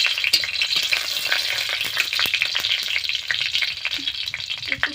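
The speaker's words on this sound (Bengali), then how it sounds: "এবারে আমি কয়েকটা শুকনো লঙ্কা ভেজে নেব।" Dry red chillies fry in hot oil in a wok, giving a steady close sizzle and crackle with occasional stirring scrapes throughout, and no voices.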